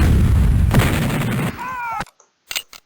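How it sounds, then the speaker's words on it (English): A cannon blast in the Civil War Generals II strategy game lands as a loud, broad booming rumble that runs about two seconds before cutting off sharply, followed by a few brief faint pops. "Cannon to the face, that'll hurt."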